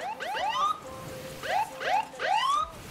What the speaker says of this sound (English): I got a new police siren